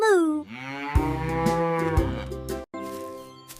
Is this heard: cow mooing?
yes